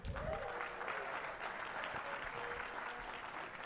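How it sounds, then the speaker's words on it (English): Sustained applause from a conference audience at a hacker convention's closing session, a dense steady wash of many hands clapping from the start of the clip to its end with no talk over it. "I didn't know if you were just applauding out of politeness"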